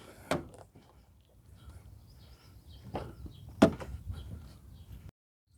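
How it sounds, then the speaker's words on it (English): A Pontiac Grand Prix's doors open with a few sharp clunks and latch clicks, spaced apart over quiet background handling noise. "Next up, open your doors."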